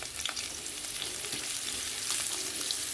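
Potato and cauliflower pieces frying together in hot oil with panch phoron, a dense close sizzle with busy crackling and stirring scrapes running continuously, no voices.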